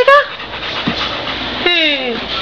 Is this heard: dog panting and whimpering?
yes